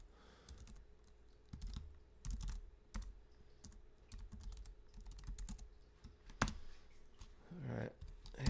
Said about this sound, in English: I also need to type in the right spot